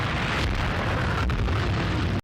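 Artillery barrage from a 1944 German D-Day newsreel, a loud continuous rumbling roar of massed shellfire with scattered sharper bursts, ending abruptly.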